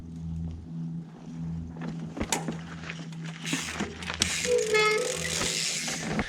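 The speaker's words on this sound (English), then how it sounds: "all you should be doing now is a ratcheting technique" A mountain bike crosses a rock slab on a trail while the rider ratchets the pedals, giving mechanical clicking and ticking over rough, continuous rolling and trail noise, close to the microphone.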